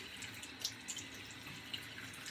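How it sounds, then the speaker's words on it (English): Water runs from a bathroom sink tap as a face is wetted before a shave, a faint steady splashing stream with a few small drips and splashes, no talking. "let me wet my face again real quick"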